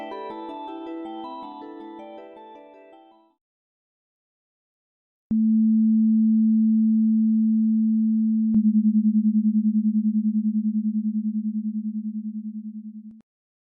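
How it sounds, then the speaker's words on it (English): A smooth, steady low sine tone hums alone after a burst of musical notes, holding for several seconds with a slight pulsing binaural beat before cutting off. "putting a 200 Hz tone in one ear and a 210 Hz tone in the other would cause one to perceive a 10 Hz beat tone"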